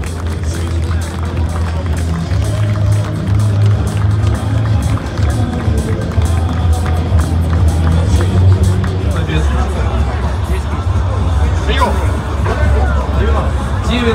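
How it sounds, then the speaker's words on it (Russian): Audience applause at an armwrestling event, a steady wash of crowd clapping and hubbub under an announcer speaking, loud and continuous across the whole stretch. "Давайте еще раз аплодисменты."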